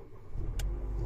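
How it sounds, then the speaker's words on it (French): A Mercedes A150 W169 engine starting: a low, steady rumble rising as it catches, with one brief sharp click partway through, heard close from inside the car. "Je vais essayer peut-être en démarrant la voiture."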